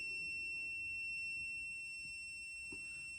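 An electrical tester beeping while taking readings on a circuit, a steady high-pitched tone held throughout with faint handling noise beneath.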